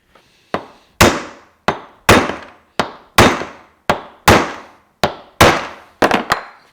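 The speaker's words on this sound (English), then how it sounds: "Maybe we can break it free tapping that with a hammer." Sharp metallic hammer taps on a stuck piston in a Kawasaki KZ750 brake caliper, about a dozen distinct close blows at an irregular, roughly half-second rhythm, each ringing briefly with no talking.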